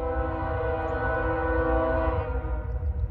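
A CSX freight train approaches on an old B&O railroad line, its horn sounding one loud, sustained, multi-tone blast over a steady low rumble of the rolling train.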